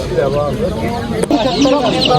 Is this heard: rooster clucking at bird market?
yes